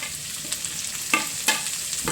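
Carrot, capsicum and onion fry in a pan with a steady close sizzle, broken by a few brief scraping stirs, and no talk.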